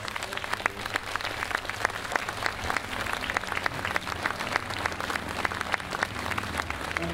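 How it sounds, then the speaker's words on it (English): Audience applause at a community band's summer concert, steady dense clapping from a large crowd sustained throughout, fairly close and even in level. "stand up and receive some applause for a great"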